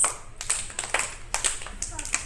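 Children in a classroom clap for a classmate, a short burst of scattered, uneven claps close by, with a voice speaking alongside.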